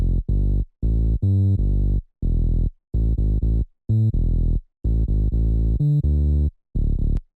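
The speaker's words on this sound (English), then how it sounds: "For the bass in the drop I used Serum bass" A distorted Serum synth bass patch called Tech Bass in a tech house track, playing loud, buzzy, clipped notes in a choppy rhythm with short silent gaps between them.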